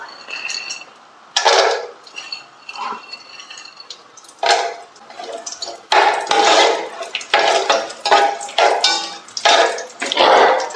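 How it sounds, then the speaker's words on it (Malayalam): Cashews and raisins fry in hot oil for a homemade chicken biryani, crackling in uneven loud bursts with clinks of a utensil against the pan between them. "ഇപ്പോൾ അണ്ടിപ്പരിപ്പും മുന്തിരിയും കൂടെ അതിലേക്ക് ഇട്ട് കൊടുക്കുകയാണ്."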